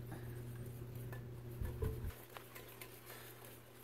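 Coconut flour whisked into a bowl, giving soft, steady scraping and light clinks of a whisk against the bowl, with a louder clatter midway before settling back to quiet patter.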